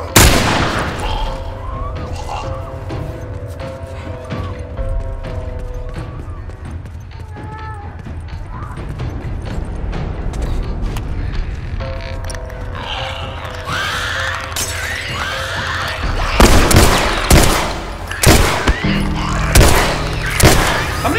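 Gunfire in The Last of Us Part II, with scattered shots and booms over game ambience and voices, growing into a louder cluster of sharp bangs near the end.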